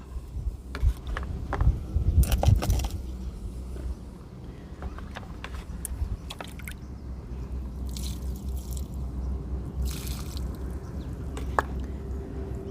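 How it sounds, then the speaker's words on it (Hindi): Plain water is poured onto a freshly repotted chrysanthemum in a pot, giving soft splashing and dripping that is busier early on, then a quieter trickle and scattered drips, close and fairly faint. "प्लेन पानी डाल देंगे आप।"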